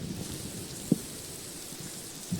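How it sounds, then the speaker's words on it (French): Rain falls in the video game Minecraft, a steady, faint hiss of showers with one soft low thump partway through and another near the end. "Ah, il pleut."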